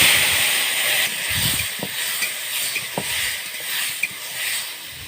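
Chopped tomato sizzling in hot oil for a Bengali chutney, a steady close hiss with a few soft utensil taps and clinks, no voices.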